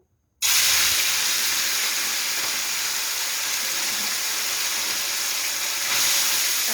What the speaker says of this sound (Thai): พอน้ำมันร้อนเราก็หลีไฟนิดนึงเพราะปลาเราไม่ตัวใหญ่เนาะ จะทอดเนาะดู